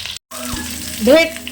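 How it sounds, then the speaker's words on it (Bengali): Food fries in oil in a wok with a steady crackling sizzle, close and loud, joined partway through by a brief rising squeaky tone. "এই দেখো কড়াইতে চটর পটর আওয়াজও হচ্ছে"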